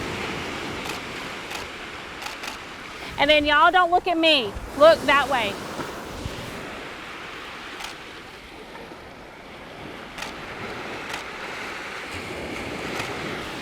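Ocean surf washing in on Driftwood Beach, a steady rushing wash under wind noise on the microphone, with people talking and a brief burst of voices midway.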